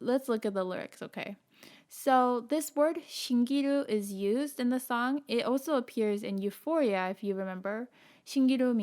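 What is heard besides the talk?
None of the usual background noises is heard.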